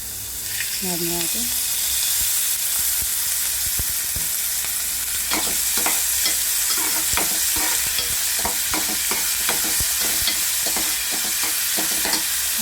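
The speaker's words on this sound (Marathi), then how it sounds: "कांदा भाजून घेऊया आपला कांदा भाजतो आहे" Onion frying in oil in a pan for a capsicum dish, a loud steady sizzle with quick repeated spatula scrapes and taps growing busier midway, close and without talk.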